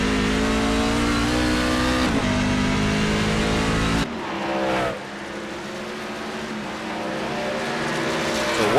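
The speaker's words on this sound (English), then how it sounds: "On board here with Wineland as he navigates those backstretch chicanes." Onboard engine of a race truck in an AREA Truck Series race at the Charlotte Roval, roaring loud and close through the backstretch chicanes, with revs rising, dropping on a downshift and climbing again.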